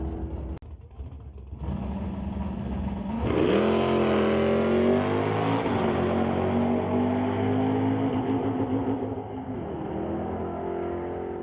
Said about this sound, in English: Trouble for Gillick trying to get that car into gear